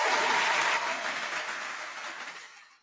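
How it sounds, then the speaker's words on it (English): Short burst of applause that starts strong and fades out over about three seconds, heard alone. "Round of applause for Chris Williams."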